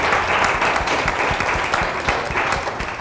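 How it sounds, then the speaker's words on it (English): An audience applauds at a podcast book launch panel, a loud, continuous wash of many hands clapping at close range that holds steady for the whole few seconds. "Round of applause for these amazing people to step out into the world and tell their story."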